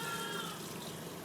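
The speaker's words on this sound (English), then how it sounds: "Make sure that water is allowed to run through the middle of the tubing." Water runs steadily through CPAP tubing being rinsed, a continuous broad hiss and splash at a fairly quiet level with no talking.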